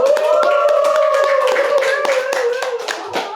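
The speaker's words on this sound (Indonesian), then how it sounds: "Tepuk tangan dulu" An audience at an Indonesian comedy talk show claps on cue, dense hand claps sounding loud and steady for a few seconds, with a sustained tone from a voice or music running underneath.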